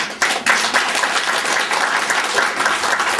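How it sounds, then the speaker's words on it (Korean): An audience applauds at the close of a lecture on the Donghak Peasant Revolution in a hall: dense, steady clapping from many hands that starts abruptly and holds at an even level throughout. "박수로."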